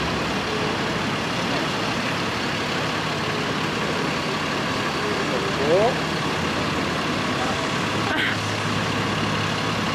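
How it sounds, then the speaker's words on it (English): On a city street in LA's Koreatown, a fire truck's heavy engine rumbles steadily in the background while people talk over it, with a brief rising tone partway through. "Ooh, there's a fire truck."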